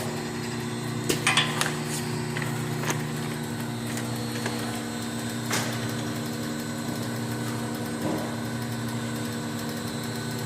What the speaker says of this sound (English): There's a 5-second delay. It'll fill. That's the slow speed, and that's the top off.